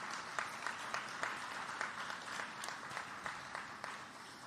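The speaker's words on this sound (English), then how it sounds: "give a round of applause to our city council and our city manager's office" A gala crowd applauds a city council and city manager's office at a human rights celebration. The clapping is steady, with the overall sound fairly soft and distant while a few sharper claps stand out.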